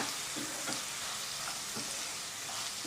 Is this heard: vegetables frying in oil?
yes